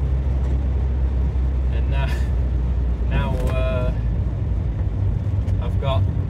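An old station wagon cruising along a road on Christmas Day, its steady low rumble of engine and tyres filling the cabin while someone talks over it.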